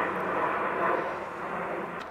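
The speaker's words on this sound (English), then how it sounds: "fire plane, I guess" A propeller plane, probably a firefighting aircraft, passes low overhead above a hiking trail in Angeles National Forest, a steady broadband drone that swells slightly midway and holds for the whole moment without any voices.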